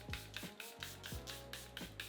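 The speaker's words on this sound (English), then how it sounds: "Gonna take the Charlotte Tilbury Flawless Finish setting spray" Several quick, short spritzes of a Charlotte Tilbury Flawless Finish makeup setting spray, close up, with a steady rhythm of misty bursts and slight clicks of the pump.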